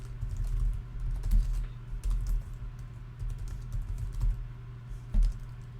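Fast, irregular clicks and clacks of a computer keyboard as someone types the command to write and quit, a close, steady burst of keystrokes with no talking.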